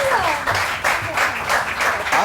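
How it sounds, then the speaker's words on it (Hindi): Studio audience applause on a morning TV show, a busy burst of many hands clapping close by, with a speaking voice over it. "आप लोग तालियां बजाएं"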